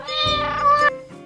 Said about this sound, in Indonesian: kucing